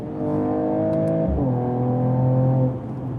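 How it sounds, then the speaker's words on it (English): A 2021 Mercedes-AMG GT 43 4-Door Coupe engine drones loudly and close, then blips its revs sharply on a downshift before settling into a steady lower hum that fades out at the end. "So I got to do this one more time. Just another downshift."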